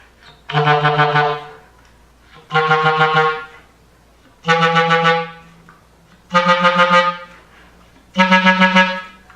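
A clarinet plays five tongued bursts of four chromatic sixteenth notes, each group ending on a held accented stinger note, climbing step by step with short pauses between.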